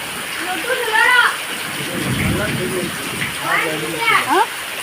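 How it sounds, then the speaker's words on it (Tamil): Heavy rain falls during a storm in Arakkonam, a steady wash of downpour throughout while people talk over it; no distinct thunder crack stands out. "சரியான மழை இடி பயம் பயங்கரமாக இருக்கு"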